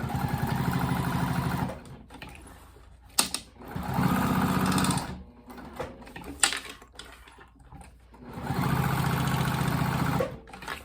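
A sewing machine quilts a fabric wallet in three sustained runs of steady mechanical whirring, each stretch a few seconds long, with quieter handling pauses between them.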